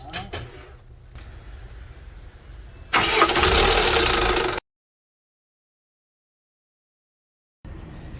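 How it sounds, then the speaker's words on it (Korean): A SsangYong Rexton engine is started right after a drive belt replacement. Quieter workshop noise gives way to a loud, dense burst of cranking and catching, which cuts off abruptly, and faint ambience returns afterward. "벨트는 다 걸어줬습니다. 시동 한번 걸어보겠습니다."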